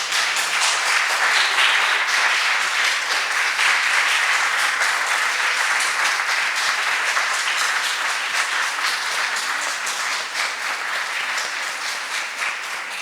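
An audience at a congress applauds interns with sustained, dense clapping that holds steady and fairly loud throughout, with no talking over it.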